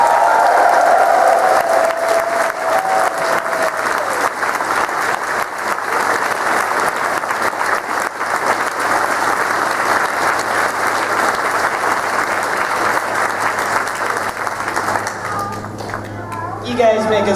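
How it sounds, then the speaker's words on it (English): Crowd at a furry convention's opening ceremony cheers and applauds loudly and continuously for guests of honor, with whoops at the start and a voice talking over the tail end. "Can we have a fantastic cheer and round of applause for our guests of honor"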